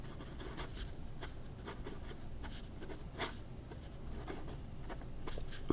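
A Scribble Flow fountain pen with a flexible fine nib writing on paper, soft scratchy strokes in irregular short bursts, close and quiet over faint background hiss, with no talking.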